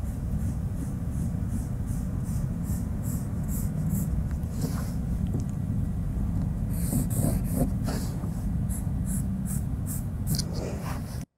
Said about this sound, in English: Watch the way I'm drawing the line.